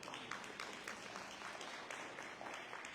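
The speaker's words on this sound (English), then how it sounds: "You can clap." Steady applause from an audience at a small business summit, a dense, even patter of many hands clapping at a fairly low, distant level throughout.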